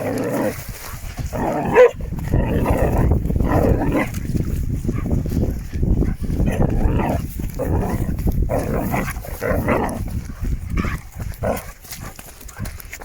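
A dog barks and yelps excitedly in a busy, near continuous run of loud barks, close by, with no talking.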